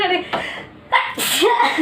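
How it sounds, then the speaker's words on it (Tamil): A person sneezes repeatedly in quick succession, loud and close, with a brief spoken word between bursts. "எனக்கு தும்மல் நிற்காம வருது."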